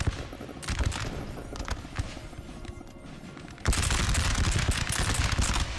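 Musket volley fire from massed line infantry in the Napoleon Total War game, a dense crackling battle din that swells sharply into a loud, sustained rattle of overlapping shots partway through.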